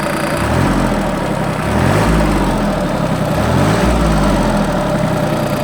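A Japanese tractor's engine revs up and back down several times, the rumble rising and falling in pitch over a constant loud drone.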